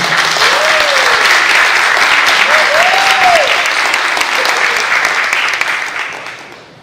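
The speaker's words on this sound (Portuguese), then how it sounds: "se vocês pudessem receber com aplausos, doutora Isabel Scholler" An audience at a university sanitation course applauds as a guest lecturer is welcomed, sustained loud clapping that holds steady for several seconds before fading out, with faint whistle-like tones briefly rising over it.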